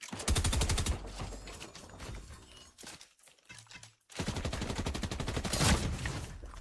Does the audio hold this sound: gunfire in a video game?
yes